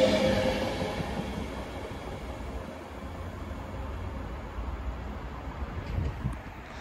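Avanti West Coast train at Macclesfield station, a steady rumbling roar with wind noise that fades slightly and then holds, and no talk heard.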